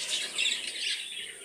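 A pigeon being taken out of its loft lets out brief, bright squawking calls close by during a short moment, with no other sounds competing.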